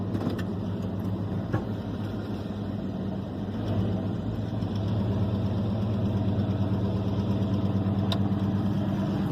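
A 1993 Ford F-150 pickup, 8-lug swap, runs with a steady low engine rumble at moderate volume throughout, with a few faint knocks and clicks over the drone and no talking.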